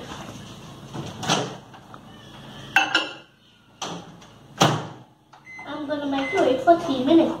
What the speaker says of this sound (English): Now I'm gonna put it in the microwave.